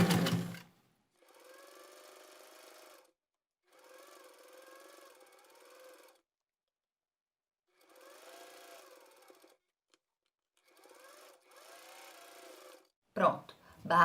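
Sewing machine stitching the hem of a terry-cloth dish towel in four separate runs of a few seconds each, with quiet pauses between, fairly faint and close, and brief handling noise at the start and end.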